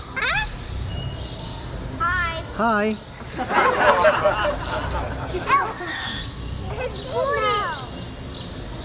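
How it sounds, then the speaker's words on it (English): A pet bird at a Hyatt Regency resort gives several short chirpy calls close by, scattered between people speaking and greeting it. "How can you talk even you're a bird?"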